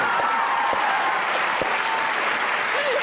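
A studio audience at a Pakistani comedy talk show claps steadily, a dense, even wash of applause filling the room for the whole stretch, with a voice faintly audible beneath it.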